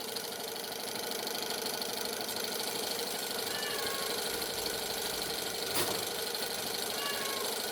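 A Stirling-powered well motor with lubricated plastic gears runs steadily, giving a fast, even mechanical whirring and ticking at low level throughout, with a brief brighter click near the end.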